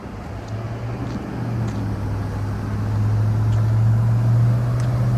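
A 2011 GMC Yukon XL Denali AWD with the 6.2 V8 and a chrome exhaust tip idles with a deep, steady hum that swells slightly louder partway through, heard close and without talk.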